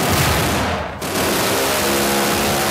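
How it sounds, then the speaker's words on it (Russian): A burst of loud, dense gunfire from a weapon in the video game Garry's Mod, rapid shots blending into a continuous roar with a brief dip before resuming. "эффекты от выстрелов немножко не такие, как от той пушки"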